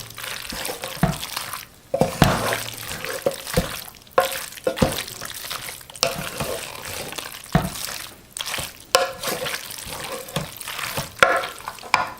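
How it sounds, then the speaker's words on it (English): Chicken alfredo pasta being stirred in a Ninja cooking system pot, a spoon scraping and sloshing through thick creamy sauce in irregular bursts over a low sizzle, close up, with a voice speaking at times. "Keep mixing and mixing and mixing."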